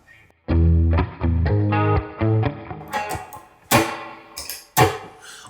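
A clean electric guitar played through a NUX Cerberus pedal with a big chorus effect rings out in strummed and picked chords, shimmering and sustained, followed by sharper muted strums and scratches, loud and alone.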